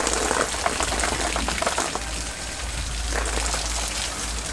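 Strong water flow from a PVC push pump fitted to a hand well, a loud, steady rushing splash that runs continuously, close and alone.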